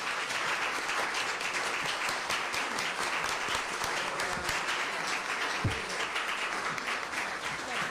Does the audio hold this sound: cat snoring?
no